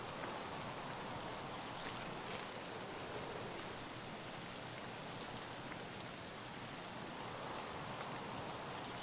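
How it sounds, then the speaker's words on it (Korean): Steady, even rainfall patters continuously at moderate volume in the Woods map of the video game Escape from Tarkov, with no voices and no breaks. "빗소리 때문에 발소리도 하나도 안 들릴 듯."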